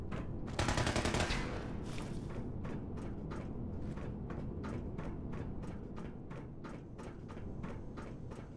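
Gunfire in Fallout 4 opens with a dense loud burst, then settles into a steady rhythm of sharp single shots, about two per second, over a low background.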